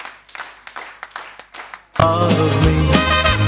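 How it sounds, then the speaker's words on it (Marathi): A family claps together at a retirement cake cutting, a steady run of quick handclaps for about two seconds before loud music suddenly cuts in over everything. "सगळ्या परिवाराने आपण सगळ्यांनी जोरदार टाळ्यांच्या आवाजामध्ये विथ द रिदम, सगळ्यांच्या रिदममध्ये टाळ्या"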